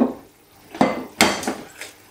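Meatball mixture worked with breadcrumbs in a bowl, with a few sharp clanks and knocks of a utensil against the bowl spaced across a short stretch, close and moderately loud.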